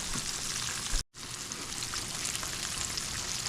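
Bacon sizzles steadily in a pan as it crisps, a constant crackling hiss broken by a brief silent gap near the start.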